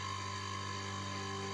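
A milling machine drills into a stacked wooden handle segment for a dagger, giving a steady, continuous tonal whine with a constant motor hum and no breaks.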